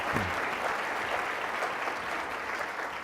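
Sustained audience applause at a state health policy panel event, steady broadband clapping from a sizable crowd filling the space, with a brief voice at the very start.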